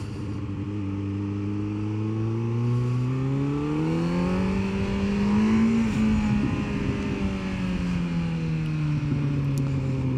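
A 2025 Kawasaki Z900 motorcycle exhaust while riding, its engine note climbing and falling smoothly through the gears, steady and fairly close with wind noise underneath.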